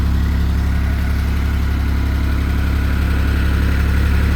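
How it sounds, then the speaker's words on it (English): A 1970 Porsche 911T engine idles loud and steady, a continuous low throbbing rumble with no change in pace, heard up close throughout. "Let me knock the idle down a little bit just because it's loud."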